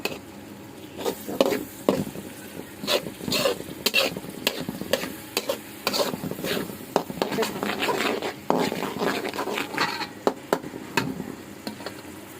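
Mashed gourd-leaf bhorta is fried and stirred in a pan with a spatula. Rhythmic scraping strokes, loud and close, run over a continuous sizzle for about twelve seconds.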